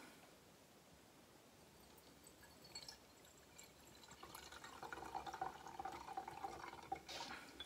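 Rit fabric dye is poured through a funnel as a soft liquid trickle that swells after a few seconds into a steadier pouring stream, fairly quiet and heard alone.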